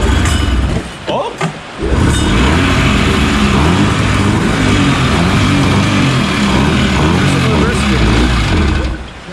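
A previously seized snowmobile engine sputters, catches and then runs loudly and continuously, with a rough, close-up mechanical roar that fills the clip.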